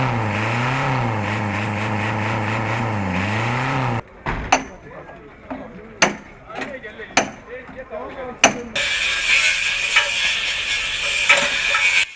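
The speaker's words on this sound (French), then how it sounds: "La casse, c'est aussi les bruits de moteurs et de meules." Scrapyard noise in Abobo: a droning engine gives way to sharp metallic bangs and clanks, then a loud high grinder whine, with a voice speaking in between.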